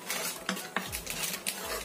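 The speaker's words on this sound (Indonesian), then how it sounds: "Kita aduk rata." A utensil stirs lemet batter of flour and sugar in a bowl, giving several close, sharp clinks and scrapes against the side at an uneven rhythm.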